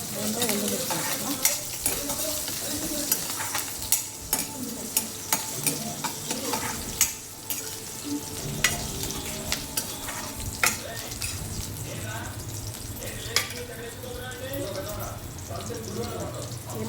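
Green chillies sizzle in hot oil in a pan for amaranth leaf curry, with steady frying hiss and repeated sharp clinks of a spoon stirring against the pan, under intermittent talk.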